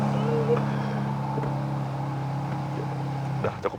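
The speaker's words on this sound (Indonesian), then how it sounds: "Untuk mendengarkan suara raungan mesin W12 ya." A Bentley Continental GT Speed's W12 engine runs indoors in an enclosed room. It holds a deep, steady, close hum for several seconds, with a faint voice near the end.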